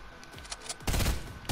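Bursts of rifle gunfire in the Fortnite video game: scattered faint shots, then a loud sustained volley and a final burst at the end, with no talking.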